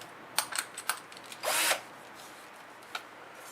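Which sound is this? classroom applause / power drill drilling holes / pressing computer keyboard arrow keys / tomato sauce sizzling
power drill drilling holes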